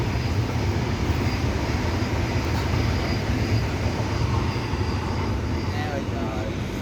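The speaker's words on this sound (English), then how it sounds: "And another Waratah B set. This is a hot spot for a lot of trains." A Sydney Waratah B set train passes through Macdonaldtown with a loud, steady low rumble and rolling roar that holds at constant strength throughout.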